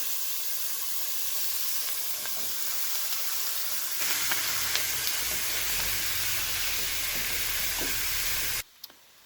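Oil heats in a frying pan ready for ground beef, giving a soft steady hiss that turns into louder sizzling partway through, then cuts off abruptly near the end.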